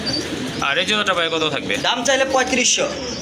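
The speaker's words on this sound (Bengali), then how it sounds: "এটা হচ্ছে আপনার মডানা কবুতর সম্পূর্ণ রানিং" A Modena pigeon coos with a soft, throaty, repeated call among other birds at a pigeon seller's collection, and a voice talks over it throughout.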